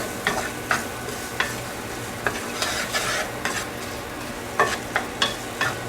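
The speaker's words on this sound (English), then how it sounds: "Go ahead and give this a stir." Onions and ground beef sizzle steadily in a hot pan, seasoned with salt and pepper, while a utensil scrapes and stirs through them in repeated close strokes with occasional clinks against the pan.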